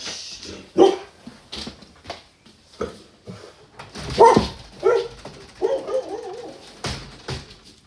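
A dog barks in loud, excited bursts indoors, several sharp barks scattered across the stretch with short pauses and a whimpering edge between them, close to the microphone.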